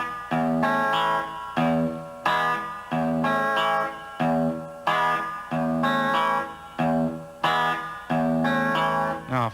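Guitar riff picked on the sixth string with no echo or effect, a repeating pattern of bright, sustained plucked notes in a steady rhythm, close and loud with no talking.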